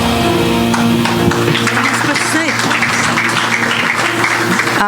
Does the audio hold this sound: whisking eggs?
no